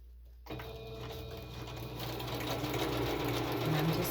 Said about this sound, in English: I'm going to sew along here and along here. And I'm using my zigzag stitch for it all.